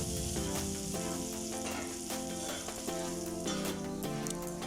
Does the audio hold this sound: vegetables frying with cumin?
yes